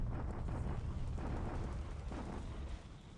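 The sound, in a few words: naval bombardment explosions in video game War in the Pacific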